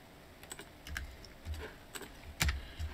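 Keys clack on a computer keyboard as shortcuts are entered while modeling in Blender, a quick irregular run of sharp close taps with a few louder presses and no talk.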